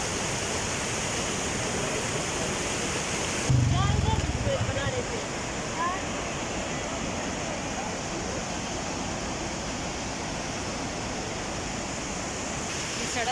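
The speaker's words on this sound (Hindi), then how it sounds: "ये दरिया बहुत तेज से बह रहा है" Fast, cold mountain river rushing past in Gilgit Baltistan, a steady broadband roar of churning water heard close by, with a brief thump early on and no speech.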